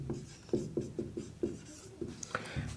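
A pen or marker writing an example sentence on a board, a series of short rhythmic strokes and squeaks close by, fairly quiet, with a faint rub near the end.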